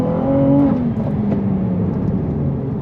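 Ferrari 296 GTB, a powerful rear-wheel-drive supercar, pulling away from a standstill, a loud engine note rising sharply then easing into a steady tone that fades slightly as it moves off, with no talk.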